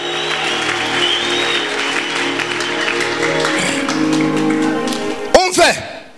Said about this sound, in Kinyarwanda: Tumukomera amashi, tumuvugiriza impundu